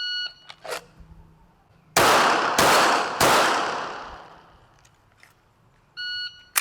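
Three loud, sharp pistol shots in quick succession during an FBI pistol qualification drill at a shooting range, each ringing out with a long echoing tail, framed by electronic timer beeps before and after.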